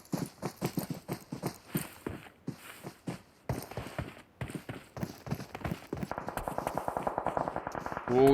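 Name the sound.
gunshots in PUBG Mobile video game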